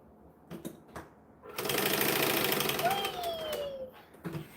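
A sewing machine stitching fabric, running in one steady, fast burst for about two seconds, close and moderately loud, with a few faint handling clicks before and after.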